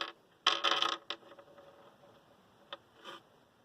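Small metal screws from a dismantled Aerospeed box fan clatter onto a wooden hutch shelf in a quick cluster of close, bright rattling clinks, followed by a couple of isolated clicks as they settle and shift.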